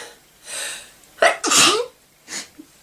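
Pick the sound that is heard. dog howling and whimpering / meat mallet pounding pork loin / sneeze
sneeze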